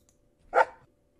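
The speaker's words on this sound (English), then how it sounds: "Is there a happy dog bark?" A single short, bright dog bark from a happy-dog sound effect in the Construct 3 game engine, one clean yip standing alone against silence.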